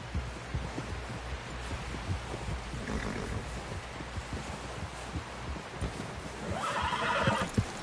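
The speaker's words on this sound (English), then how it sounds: "Someone help John down off this horse." Horse whinnies and snorts in Red Dead Redemption 2, with clip-clop hooves and a steady low rumble throughout, a louder whinny rising near the end.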